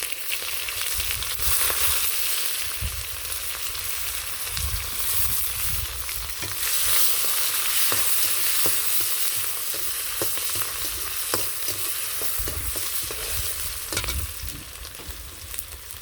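Onions frying in a pan over cumin seeds, a dense loud sizzle that swells and eases, with intermittent stirring scrapes close up and no one speaking.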